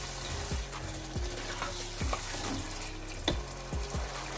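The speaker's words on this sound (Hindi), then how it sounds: "अब हम इसमें आलू ऐड कर देंगे और इसको भी हम तकरीबन 2 मिनट तक भूनेंगे।" Potatoes sautéing in a pan for a mixed vegetable curry of potato, peas and carrot: a soft continuous sizzle broken by rhythmic spoon-against-pan scrapes roughly every half second, close and fairly quiet.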